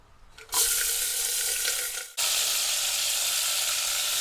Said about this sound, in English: So this is roughly around 400 grams of mutton. I'm just going to add it into the oil.